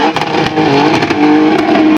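A stunt car that climbs hills revs its engine in the desert, a loud, close, sustained roar that rises and holds before cutting off sharply.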